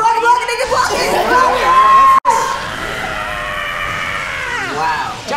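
A loud, drawn-out Japanese character scream from the Dragon Ball fighter game Jump Force, ringing over hectic in-game effects and crowd-like chatter before a brief cut, then continuing in a long sustained wail.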